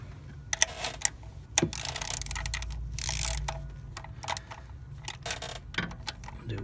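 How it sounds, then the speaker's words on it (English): Ratcheting wrench clicking in short bursts while tightening the mounting bolts on a high-pressure fuel pump of a Kia Optima, close and fairly quiet with metallic rattles between strokes. "put the wrench on it,"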